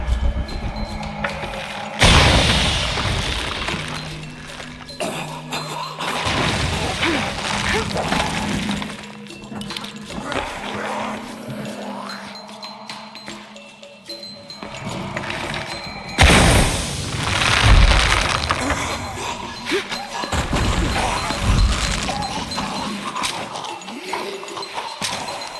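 Explosion in Shadow of the Tomb Raider game, with loud bursts around two and sixteen seconds followed by crashing, shattering debris and thuds amid steady game ambience and music.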